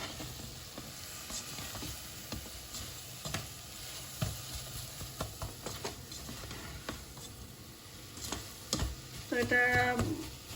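Grated coconut and jaggery cook together in a pan for narkel naru, giving a faint, steady sizzle with scattered clicks and scrapes of stirring, plus a brief clatter near the end.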